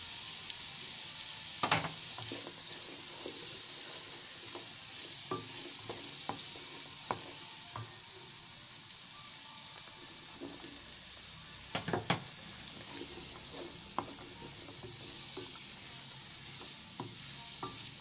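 Vegetables, sweet corn and gizzard sizzle steadily in a pan for Nigerian fried rice, with a constant frying hiss broken by occasional scrapes and knocks of a stirring spoon against the pot.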